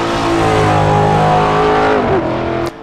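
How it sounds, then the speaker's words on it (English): A Dark Horse R V8 race car in the Assetto Corsa sim racing game roars up close with a loud, sustained intake howl and engine drone, its pitch dipping briefly near the end. "capturing the authentic intake howl and V8 thunder of this car"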